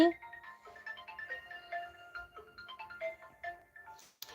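A mobile phone ringtone plays a repeating electronic melody of short tonal notes. It is moderately quiet and continuous, with brief faint voices near the end.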